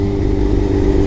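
Close, loud engine drone from a Suzuki GSX-R 600 motorcycle on a test ride, a steady low hum with a strong harmonic tone holding for about a second.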